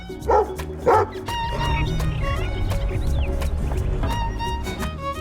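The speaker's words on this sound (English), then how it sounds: "What's with the neighbor's dog?" A dog at a lakeside cabin on the ice lets out two loud, close barks, then a steady rumble of background noise with faint high whines and yips carries on for several seconds.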